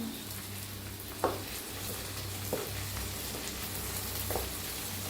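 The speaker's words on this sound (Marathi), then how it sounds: "थोडस तेल वतायचं गरम झाले त्याच्यात टाकायचा असा कढीपत्ता कढीपत्त्याला जरा भाजून घेऊया" Curry leaves crackle and sizzle in hot oil in a pan, a steady hiss broken by a few brief clinks and pops, heard alone without talk.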